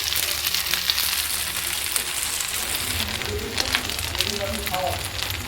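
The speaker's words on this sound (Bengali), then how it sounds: "এগুলোকে লো ফ্লেমে একদম ভাজতে হবে" Paneer satay pieces fry gently in oil over a low flame, giving a steady, dense hiss and crackle that stays even throughout, close to the pan, with no voices.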